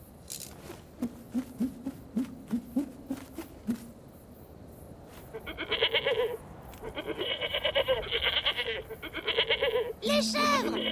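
Goats bleat in wavering, repeated cries, with people talking and a string of short rhythmic knocks earlier on.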